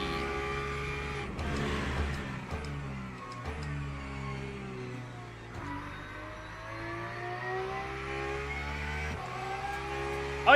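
A Porsche race car engine in a racing video game revs hard and steadily, its pitch climbing and dropping through several gear changes, loud and continuous with no talk over it.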